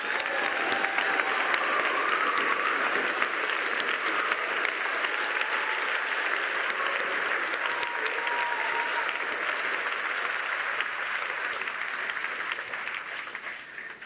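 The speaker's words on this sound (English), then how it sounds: "Let's give him a huge round of applause." An audience applauding steadily at a school closing ceremony held in a gym, a dense, continuous wash of clapping throughout that tapers slightly at the end, with no talk over it.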